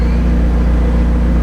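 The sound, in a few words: McLaren 720S car engine heard from outside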